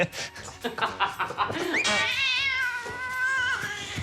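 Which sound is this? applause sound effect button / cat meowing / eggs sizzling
cat meowing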